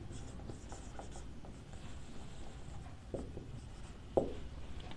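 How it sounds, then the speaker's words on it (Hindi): Chalk or marker writing on a board in a physics classroom: soft, continuous scratchy strokes run throughout at low volume, with a couple of light taps and no talking. "तो यहां पर इसके बारे में लिखते हैं"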